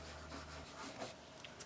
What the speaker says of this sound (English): Coloring in our shamrock.